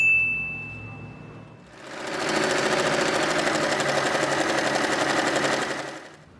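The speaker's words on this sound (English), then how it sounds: "Fold it in half and sew this part" Sewing machine stitching a folded fabric strip for the bow of a turban hat: a short tone first, then one close, steady run of rapid stitching lasting about four seconds before it stops.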